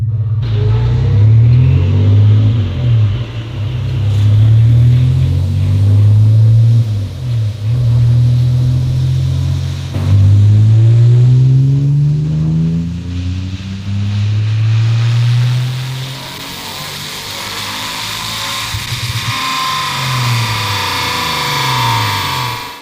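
A chip-tuned BMW E46 widebody drift car engine revs repeatedly on a run, rising and falling through the gears with loud throaty rumble and a close, continuous roar.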